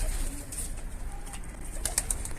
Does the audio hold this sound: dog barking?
no